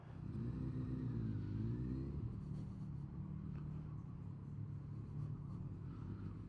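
A Kawasaki ZRX motorcycle engine runs steadily at close range, its low rumble rising briefly in a rev during the first two seconds before settling into a constant loud drone.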